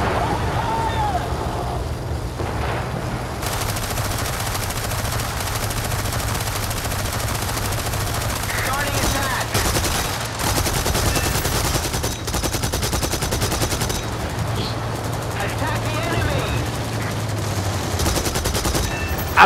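Aircraft guns chatter in bursts during a War Thunder air battle over Death Valley, loud rapid fire over a constant engine drone, with fire pausing and resuming through the stretch.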